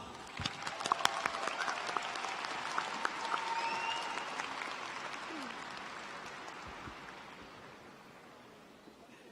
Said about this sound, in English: Let us welcome them with a round of applause.